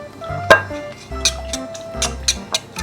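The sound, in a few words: whisking eggs in a bowl for french toast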